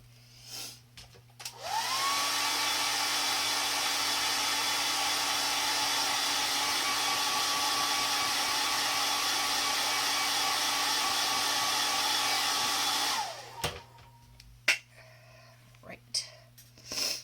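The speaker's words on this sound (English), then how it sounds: "I am going to hit the hair dryer with this again for just a few seconds" A hair dryer roars steadily for about eleven seconds, drying paint on an art postcard, switching on and off abruptly, with faint movement and light handling noises after it stops.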